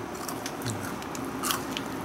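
A child bites into and chews a chilled Yo-kai Watch Jibanyan chocolate crunch bar, with close, crisp crunching that comes in a few quick bursts over a steady background hiss.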